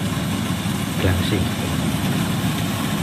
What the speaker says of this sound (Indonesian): Jadi seperti ini mesin pemanen padi yang Gatra.